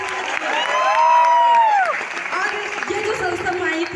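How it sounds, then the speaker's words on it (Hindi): An audience at a university student-achievement event breaks into sustained applause and cheering, with dense clapping and rising shrill whoops swelling loudly before settling into a steady crowd roar. "मैं चाहती 4 यूनिवर्सिटी में एक बार जबरदस्त ताली होनी चाहिए।"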